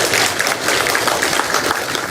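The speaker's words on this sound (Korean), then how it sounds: "큰 박수로 환영해 주시면 고맙겠습니다." Residents at an apartment briefing session clap to welcome a speaker to the stage, a loud, continuous patter of many hands lasting about two seconds with no talk.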